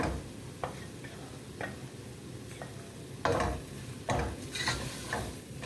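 A spoon stirs egg biryani masala with leftover egg marinade in a pot, making irregular scraping knocks and clinks over a soft low sizzle, growing a little busier toward the end.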